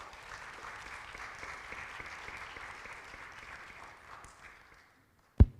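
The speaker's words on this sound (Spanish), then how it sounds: "reciban con un aplauso a la pastora Patti que nos va a compartir el mensaje" A church congregation claps steadily to welcome the pastor, a dense even applause that gradually fades out, followed by a sharp thump at the very end.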